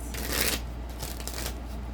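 Cards riffle-shuffled in quick bursts, a crisp fluttering whir that repeats a few times up close, with no talking.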